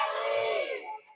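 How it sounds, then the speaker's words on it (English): A group of girls cheers and shouts from the stands at an 18U men's water polo final, a short burst of loud crowd voices that fades toward the end. "Surrey girls here to cheer him on."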